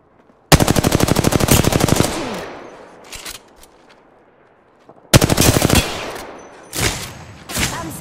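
Automatic weapon fire in the battle royale game Apex Legends: two loud, close sustained bursts of rapid shots separated by a pause, followed by a few shorter shots and impacts.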